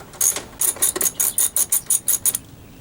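A hand ratchet turns a 10mm bolt on the battery brace of a 2002-2006 Honda CR-V, about a dozen sharp, evenly spaced clicking strokes close up, then stopping.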